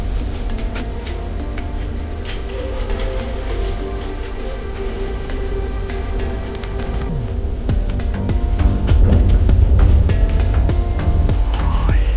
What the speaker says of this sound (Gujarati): ભાઈ જોરદાર વરસાદ પડી રહ્યો છે.